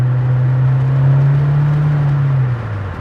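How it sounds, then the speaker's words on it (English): A vehicle engine held at half throttle gives a steady, loud low drone for about two and a half seconds, then the pitch drops and fades as it coasts off the pedal, with no talking. "So I'm gonna go half throttle and then just drop off the pedal."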